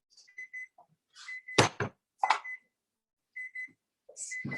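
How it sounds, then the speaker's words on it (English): A kitchen timer goes off while sugar cookies bake, giving short repeated beeps in small clusters. Thumps and clatter from the kitchen are mixed in, with no speech over them. "Can anyone hear the timer?"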